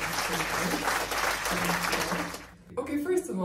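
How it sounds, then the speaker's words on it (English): A small group applauds at an evening gathering at a castle in Cyprus, brief clapping mixed with voices, cutting off near the end as talk resumes. "So I want you guys to all give a round of applause."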